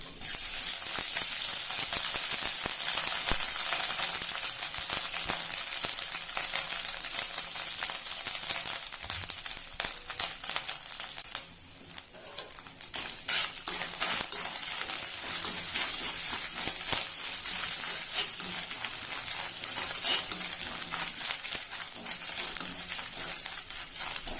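Grated coconut frying with dried red chillies and curry leaves in a pan for Nagercoil-style pumpkin eriseri, giving a steady, dense sizzle with scraping stirs that continues almost unbroken and dips only briefly midway.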